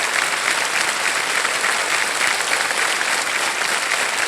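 A game show studio audience on Kaun Banega Crorepati keeps up loud, even applause for a contestant who answered a hard question correctly, a dense unbroken roar of many hands clapping.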